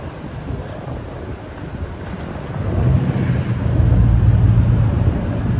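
Traffic on a downtown Gettysburg street rumbles as a steady low wash, swelling louder midway as a vehicle passes nearby, mixed with faint wind buffeting on the microphone and no talking.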